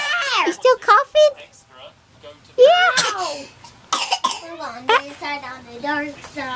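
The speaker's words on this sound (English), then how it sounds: "You still coughing?" A young girl coughs several times in short bursts at close range, mixed with her own chatter and an adult voice speaking nearby.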